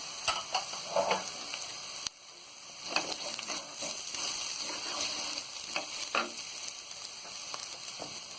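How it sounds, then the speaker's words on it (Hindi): Turmeric powder and crushed red chili fry in hot oil on low heat for baingan bharta, a continuous close sizzle with scattered spoon scrapes and stirring taps, no voices. "और अब डालेंगे हम हल्दी पाउडर, कुटी हुई लाल मिर्च"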